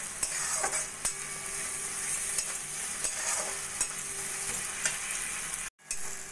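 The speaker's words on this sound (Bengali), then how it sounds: "দিয়েও ভালো করে একটু কষিয়ে নেব।" Salt, turmeric and ginger-garlic paste frying in oil in a pan for a katla fish curry, a steady crackling sizzle with scraping stirs and a brief break near the end.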